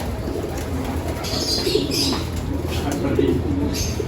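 Pigeons in a loft give low, soft cooing calls with some faint rustling and wing movement, close by and steady, with a little quiet talk in the background.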